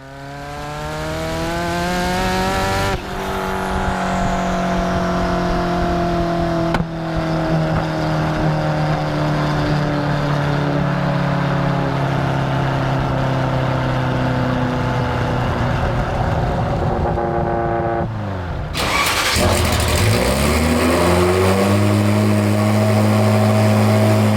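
A Ferrari F40 engine starting and then running, loud and close, with strong harmonic tones as it idles and revs, including a brief dip followed by a rising burst of revving near the end.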